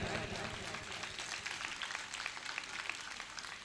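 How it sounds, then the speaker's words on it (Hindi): Crowd applause at a Hindi comic poetry gathering during a religious festival, a faint, sustained patter of many hands clapping, fairly distant and low in level, lasting a few seconds. "इतनी तालियां कुंडलपुर जाएंगी आपकी।"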